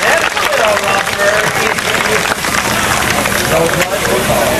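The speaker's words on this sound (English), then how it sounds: "Give him a big round of applause." Loud, dense applause and crowd noise at a 1993 RC car race for the winner, 1992 world champion Brian Kimball, a continuous roar of clapping and voices with no break.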